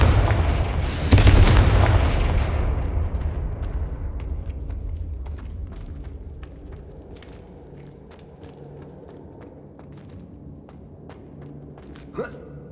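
Confringo fire spell explosion in the video game Hogwarts Legacy: a loud burst near the start that rumbles and decays over several seconds, followed by quieter ambient game sound and a brief sharp effect near the end.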